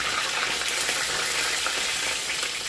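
Fish pieces coated in cornflour deep-fry in hot oil, giving a loud, dense, continuous crackling hiss that stays close and even for the whole stretch.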